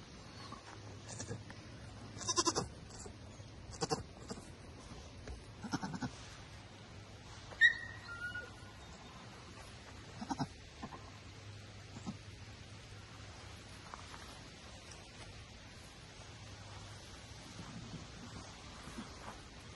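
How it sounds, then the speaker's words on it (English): A few short, thin bleats from a baby goat on a farm come in scattered bursts over a quiet, hissy background, with occasional voices nearby. "A baby goat? You find a baby goat?"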